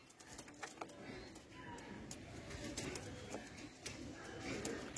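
Pigeons coo softly in a loft, low murmuring calls rising and falling under a faint background hum, with occasional light rustles and a few short taps nearby.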